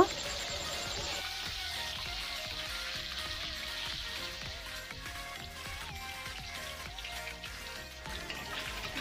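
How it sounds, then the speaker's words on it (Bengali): Fish bones, pangas and tengra, coated in turmeric and frying in hot oil for a Bengali spicy bone dish, give a steady, close sizzle that holds across the whole stretch, with a faint clatter of stirring underneath. "মাছের কাঁটাগুলো ভালো করে উল্টে পাল্টে লাল লাল করে ভেজে নেব।"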